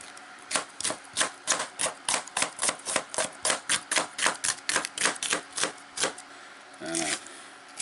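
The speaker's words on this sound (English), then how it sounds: "I like to cut this in little strips." A knife cuts a sweet pepper into strips on a cutting board, a fast even run of about two dozen crisp close chops, ending in a softer scrape.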